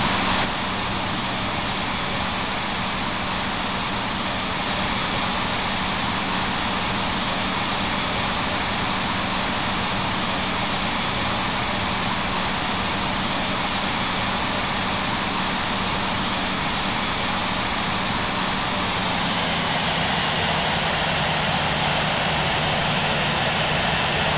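Boeing 747-8 jet engines taxiing in the flight game Infinite Flight, a loud, steady whine and roar that holds constant throughout with a slight drop in pitch near the end, with no talk.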